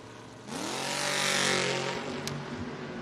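A Camaro drag racing car launches at a footbrake drag race with a sudden loud roar of revving engines that climbs in pitch, swells, then fades as the cars pull away.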